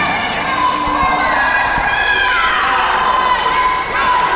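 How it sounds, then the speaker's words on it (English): A wrestling crowd at a British live show cheers and shouts continuously, a dense, loud roar of voices with calls rising and falling throughout, with a commentator talking over it. "And the crowd firmly behind Troy, but those calls are falling on deaf ears right now."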